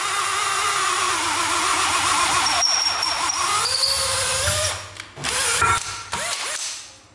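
A National cordless screwdriver drill, a Japanese domestic-market model, runs with a steady whirring motor whine, close up, then stops and restarts with rattling handling noises near the end.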